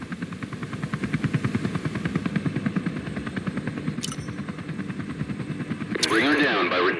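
Comanche helicopter in a video game climbing under throttle, a steady rotor thump and engine drone with a rising mechanical whine near the end, alone without voices.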